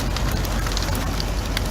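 Hail and wind storm battering a vehicle on a road trip: dense, steady broadband roar with scattered sharp impacts throughout, close and constant, no voices.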